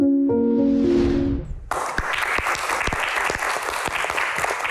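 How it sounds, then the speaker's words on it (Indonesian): Loud audience applause at a live Indonesian talk-show event, starting after a brief musical chord and sustaining as a dense, steady wash of clapping from a large crowd. "Lebih meriah lagi kita berikan tepuk tangan untuk bintang tamu kita."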